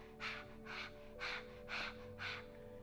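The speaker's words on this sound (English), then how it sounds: "open your mouth and stick out your tongue and begin panting" Rapid open-mouthed panting with the tongue out, practised as a lead-in to breath of fire in a kundalini yoga kriya: five evenly spaced, breathy huffs, close and fairly quiet.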